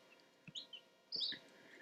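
Newly hatched baby chicks give a few faint, high chirps and peeps, scattered between soft thumps.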